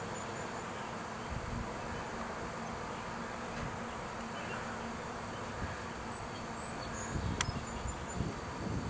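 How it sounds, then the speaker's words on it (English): Bees gather outdoors as if about to swarm, making a continuous, even droning buzz that holds steady throughout, with a brief faint click near the end. "We've got bees on the outside here and also down on the ground. I think they're gathering up to swarm."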